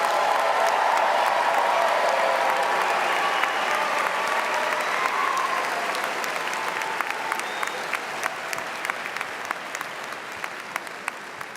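A large crowd at a 2026 undergraduate commencement ceremony applauds Bachelor of Arts graduates, with dense, sustained clapping that holds steady and then gradually thins and fades.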